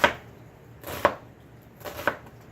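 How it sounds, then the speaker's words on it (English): A knife chops an onion on a cutting board: three distinct sharp knocks spaced about a second apart, close up and clear, with no talking. "start chopping from this end going to the back"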